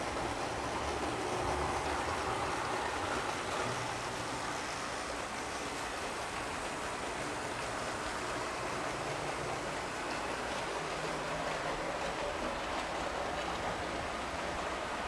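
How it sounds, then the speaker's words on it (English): Model train running on a layout, a steady continuous rumble and rolling hiss of wheels on track, even in loudness throughout with no talk. "So here's our train."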